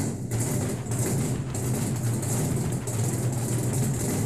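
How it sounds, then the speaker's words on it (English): Classic car engine running at a small-town car show, a steady loud low rumble with idling throb that continues throughout with no talk. "you hear that? That's the sound of real horsepower"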